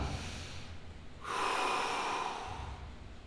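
A person exhales sharply through the nose while keeping the core muscles contracted, a short breathy snort that swells midway and lingers as a steady rush of air, close and alone.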